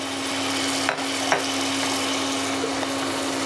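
Egg curry with hog plum being stirred in a pan, a steady soft sizzle with a couple of brief scraping knocks near the start and no talking.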